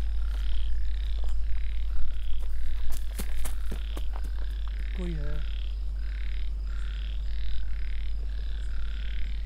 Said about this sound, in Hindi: मेंढक की आवाज तो पीछे से आ रही है